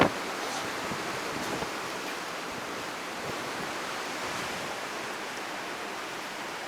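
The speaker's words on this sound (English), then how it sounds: "Terrible, monstrous storm." A hurricane storm at Rockaway Beach roars as a dense, continuous wash of surf and wind, loud and unbroken, with a few sharp thumps standing out at the start.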